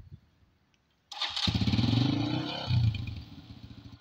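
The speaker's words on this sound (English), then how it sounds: "I'm starting the bike." A motorcycle engine, being started by a first-time rider in Ghana, is silent for a second, then catches with a sudden clattering burst and settles into a loud, steady idle that revs up briefly near the end.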